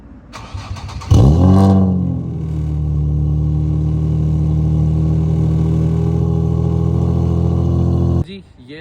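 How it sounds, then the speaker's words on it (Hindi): A Nissan 350Z with the VQ35HR V6 starts with a loud burst, then settles into a steady, rumbling idle held for several seconds before cutting off abruptly, heard up close with no talking. "गाड़ी का साउंड टेस्ट भी आपको पहले करवाता हूँ कि गाड़ी आवाज़ कैसे निकालती है और कैसी रॉरिंग आवाज़ है"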